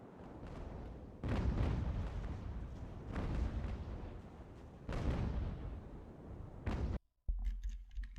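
Naval cannon salvo from sailing warships in Ultimate Admiral: Age of Sail, heavy overlapping booms rolling out in several loud waves over a few seconds, ending in a sudden cut.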